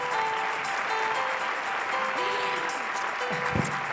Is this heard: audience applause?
yes